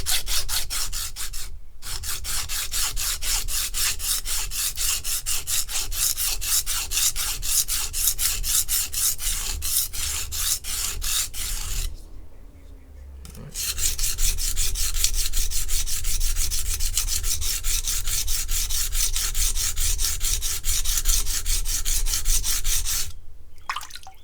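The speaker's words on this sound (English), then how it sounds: "That takes off enough material to grind the knife down, but also it's not so fast that I lose control of the sharpening process." A Martha Stewart knife blade is ground back and forth on a coarse 140-grit sharpening stone, giving a loud, close, continuous rasping scrape in long runs with two short pauses.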